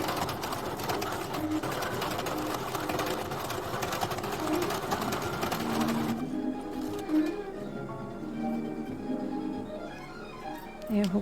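A sewing machine runs at speed double-stitching a blouse, a steady close whirring hum that stops about two-thirds through, leaving quieter handling noises and faint tonal sounds after it.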